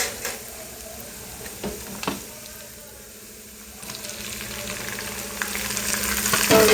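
Tomatoes frying in oil with onions and green chilies for chicken curry, a soft steady sizzle with a few clinks and scrapes, building louder toward the end.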